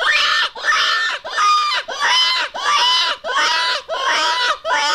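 Red River Cottontail Distress predator call blown hard to imitate a screaming rabbit, giving raspy, wavering squeals in about eight loud, evenly repeated bursts with short gaps, close and alone.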